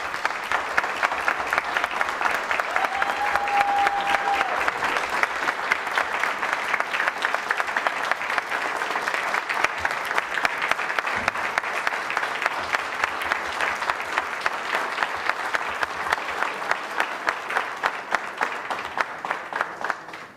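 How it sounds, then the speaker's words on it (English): Sustained applause from an audience at a city council meeting, dense steady clapping lasting about twenty seconds at an even level, with a brief murmur of voices mixed in. "I'd like residents to give you a round of applause and recognize you for the work that you do"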